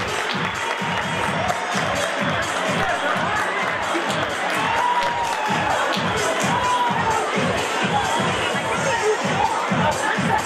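A crowd at a high school graduation fashion show fundraiser applauds and cheers in a dense, steady roar that holds for the full stretch, with a regular low thumping pulse running beneath it.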